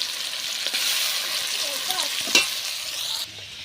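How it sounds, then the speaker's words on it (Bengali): Chicken pieces fry in hot oil, a steady bright sizzle with occasional stirring scrapes and a brief louder spatter before the frying noise drops off near the end. "এখন দিয়ে দিলাম কিছুটা চিকেন ভাজার জন্য"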